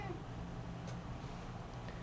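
A small cat meows faintly in an indoor room during a live-streamed programming lecture, brief cries rising over steady background noise.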